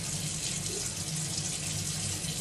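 Tap water runs steadily as a hose or faucet pours during an outdoor challenge near a coconut field, a continuous close splashing rush with no talk.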